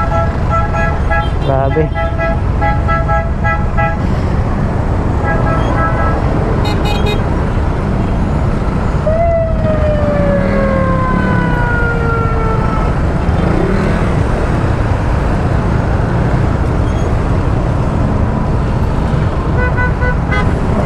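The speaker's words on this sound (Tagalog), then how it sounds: "Kahit gaano kayo busina kayo ng busina dyan, eh traffic naman talaga." Car horns honk repeatedly in heavy traffic near Bicutan and C6 in Metro Manila, Philippines, several short toots and a longer blast over a steady roadway rumble, with a brief spoken word.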